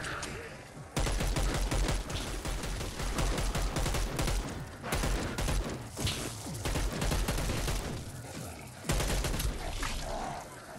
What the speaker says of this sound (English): Get that gun going.